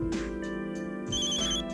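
An incoming call rings on a phone, a bright electronic ringtone of repeating tonal bursts with a short melodic pattern, close and clear, running through the whole moment with no talk.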